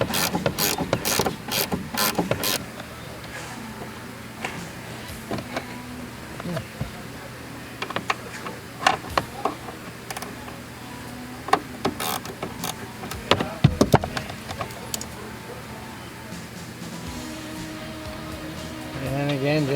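A hand ratchet clicks in short bursts while a strut nut is worked off a 1998 Toyota Corolla's rear strut assembly, and a person talks steadily underneath throughout.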